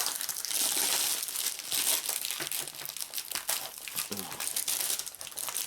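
Old cellophane wrapping torn and crinkled off a box of Battle Cards trading cards, close and continuous crackling with sharper tearing bursts, no talk.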